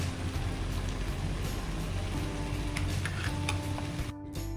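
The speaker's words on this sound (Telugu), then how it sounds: "ఇప్పుడు మన నెక్స్ట్ ఐటెం టొమాటోస్ని యాడ్ చేసుకొని అవి సాఫ్ట్ అయ్యి ఆయిల్ సపరేట్ అయ్యేంత వరకు హీట్ చేసుకోవాలన్నమాట" Tomatoes fry in oil for a chicken curry, giving a steady soft sizzle with faint stirring scrapes and crackles, continuous and fairly quiet.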